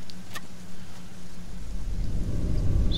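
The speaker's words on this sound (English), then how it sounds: "Oh, it's black rain." Black rain falls in the survival video game Sheltered, a soft hiss that swells into a heavy, loud downpour with rumbling low end, no talking over it.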